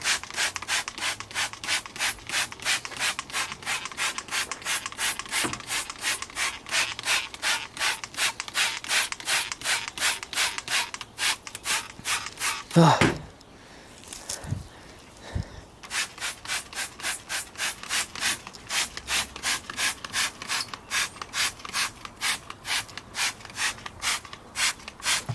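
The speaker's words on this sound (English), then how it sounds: "Now I'm gonna go in and start scrubbing all that grease away with this toothbrush." Toothbrush scrubbing away grease, a fast steady back-and-forth rubbing at close range, broken by a brief pause and a couple of knocks midway before the brisk strokes resume.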